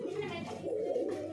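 A large pure-bred pigeon coos softly in a short low burble, close and fairly quiet, with no talk over it.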